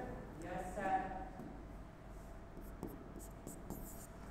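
Someone writes on a board during a spoken English lesson: scratchy strokes continue for several seconds behind a teacher's voice, which is clearer near the start.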